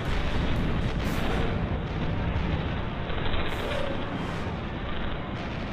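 Battleship naval guns, as on the USS Texas and other Allied battleships approaching the coast, fire in a dense, continuous barrage of heavy booms and rumbling blasts that stay loud throughout with no pauses.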